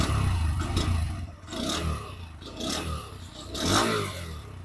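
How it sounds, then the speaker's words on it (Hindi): A Bajaj N125 motorcycle engine idles and revs through its exhaust, several swelling throttle blips rising and falling over a steady close, loud running note with no talk. "मैं इसकी एग्जॉस्ट सुना देता हूँ"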